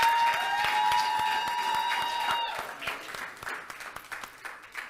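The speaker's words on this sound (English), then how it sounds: "a round of applause for MTN Ghana" An audience applauds a sponsor at an event, producing a continuous patter of clapping from many hands, with a faint sustained tone fading out early on.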